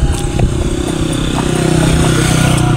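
A motorcycle rides along with a loud, continuous engine drone and rough clattering rumble, close and steady throughout with no speech.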